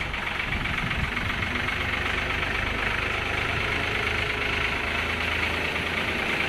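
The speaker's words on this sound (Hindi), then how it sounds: "मैं बाइक लेके जाऊँगा और चाचू ट्रैक्टर लेके जाएंगे" Motorbike and tractor engines running together, a steady close rumbling drone with a knocking low idle and broadband noise, constant level throughout and no talk.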